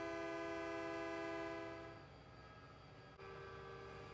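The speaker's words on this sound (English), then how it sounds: "Danny blew his horn, and it echoed through the canyon" A train horn blown in a canyon at night, a loud sustained chord that holds, then drops back in level and echoes on before resuming, with no voices.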